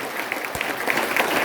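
Audience at a speech breaks into applause, a dense steady wash of many hands clapping together that holds and slightly swells throughout.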